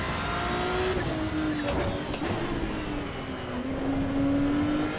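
Race car in the Assetto Corsa Evo racing game, its engine droning steadily with throttle blips and rising and falling revs, loud and continuous with no talk over it.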